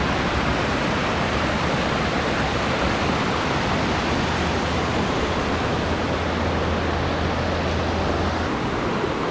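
Waterfall at Cachoeira do Jaja near Morretes, a loud, steady roar of falling water close by, continuous broadband rush with no voices.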